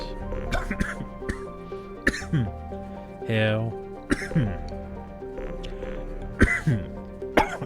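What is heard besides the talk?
coughing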